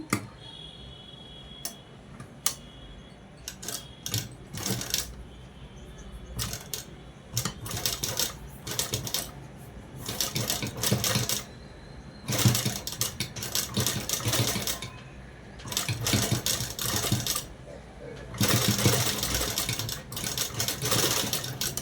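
A sewing machine stitches lace onto the round neckline of a peplum top dress, running in repeated rapid bursts with short pauses in between, close and fairly loud with no talk.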